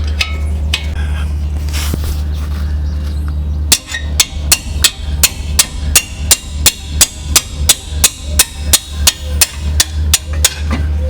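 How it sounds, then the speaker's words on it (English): Steady metallic hammer taps knocking off the front brake caliper frame of a 2010 Toyota Camry, about twenty in a fast even rhythm, ring out close and loud after a few seconds of low rumbling background noise. "now it's time to take off the caliper frame. So we'll tap that off now."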